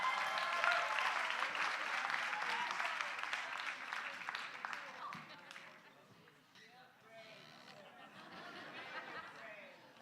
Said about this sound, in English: So please, can we give a round of applause?